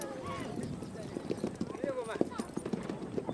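A Mongolian horse's hooves clip-clop in a steady, close rhythm, fairly faint, with a voice talking over the hoofbeats.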